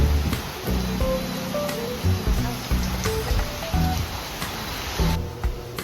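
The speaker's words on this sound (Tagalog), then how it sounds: "Ang lakas talaga ng ulan, guys." Heavy rain pours steadily as a dense broadband wash, with clinks, thumps and low kitchen clatter of someone cooking close by.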